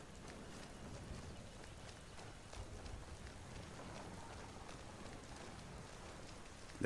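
Steady rain falls on the ground in a Skyrim Special Edition game world, a soft even hiss with scattered drops holding at a constant level for the whole stretch, with no voices over it.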